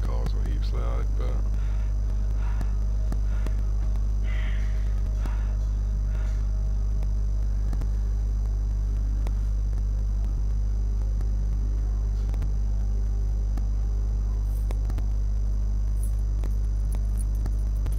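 An old car engine in the Call of Cthulhu video game gives a low, steady hum that runs continuously underneath quiet scattered clicks.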